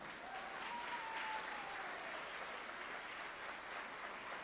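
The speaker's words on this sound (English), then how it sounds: "That is not a clap for the chief guests." Audience applause fills a conference hall at an international event on school safety, a steady, fairly quiet wash of clapping with no talk over it.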